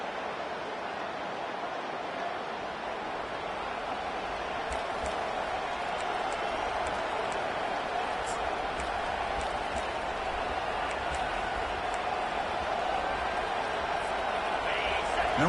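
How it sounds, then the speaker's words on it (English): Stadium crowd at a football game, a broad, steady roar of many voices that swells slightly louder over time, with a sharp whistle-like tone near the end and faint talk mixed in. "listen to this crowd noise. This stadium is vibrating."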